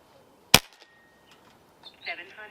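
A single sharp shot from a Niksan Escalade T .22 caliber pellet air rifle at a range, loud and close, followed by faint clatter and brief noises.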